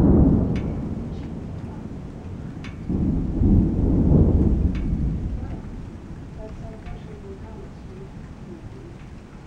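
Ohio thunderstorm with deep rolling thunder rumbling heavily and swelling midway, then easing off, with rain starting to fall and faint birds near the end.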